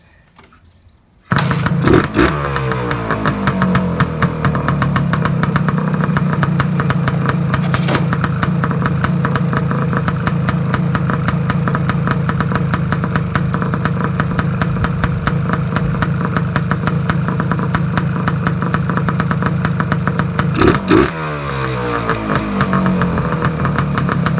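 1977 Suzuki TS250 motorcycle engine starting after a brief quiet moment, then idling loud and close with a steady rapid putter and a short blip of revs near the end.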